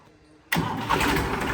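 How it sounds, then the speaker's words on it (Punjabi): After a quiet moment, a Massey tractor's diesel engine abruptly starts and settles into a loud, steady rumbling roar close by. "ਲੈ ਬਾਈ ਸਟਾਰਟਿੰਗ ਦੇਖੋ ਟਰੈਕਟਰ ਦੀ"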